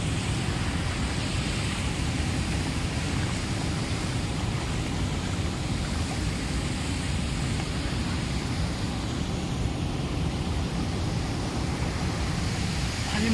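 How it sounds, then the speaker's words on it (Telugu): Water pouring over a waterfall at Yelgur Rangampet village lake, a loud, steady broadband rush that holds unbroken throughout with no voices. "This is the lake and this is the water falls."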